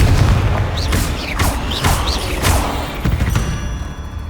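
Repeated booming spell blasts from the Confringo fire curse in Hogwarts Legacy, about five loud bursts in quick irregular succession over a dense low rumble of game combat.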